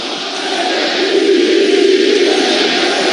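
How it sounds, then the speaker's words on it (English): At an NFL AFC game between the Kansas City Chiefs and the Baltimore Ravens, a stadium crowd chants for the Ravens: a dense, continuous roar with a sustained sung tone swelling in the middle. "Real fan Dan has the crowd chanting the Ravens"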